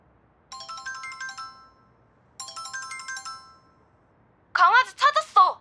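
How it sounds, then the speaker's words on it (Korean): An audiobook sound effect of a phone ringtone plays two clear melodic bursts separated by silence, followed by a short voice. "찻길로 나가봐야 할지 망설이는데 강은이에게 전화가 왔다."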